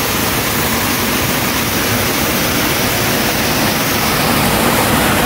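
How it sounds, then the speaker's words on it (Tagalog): Strong river water rushes through a tunnel in a loud, unbroken roar, a dense wall of water noise with no pauses, heard up close. "Maraming tubig? Malakas ang tubig mga kuha."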